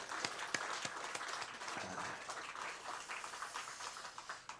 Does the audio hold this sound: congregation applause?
yes